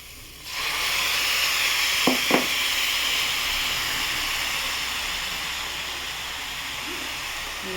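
Water hits khichuri frying in a hot pot and sets off a sudden loud, broad sizzling hiss. Two short sharp crackles follow early on, then the hiss settles into a steady, slowly fading steam.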